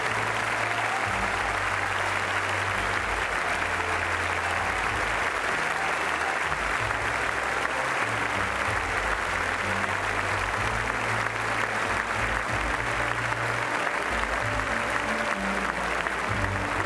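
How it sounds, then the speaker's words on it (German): Sustained applause from the show-jumping crowd at the CHIO Aachen Rolex Grand Prix, a dense, even roar of many hands from a large stadium audience lasting the whole time, with low rumble underneath. "mit einem großen Applaus wird es mit Sicherheit noch schöner"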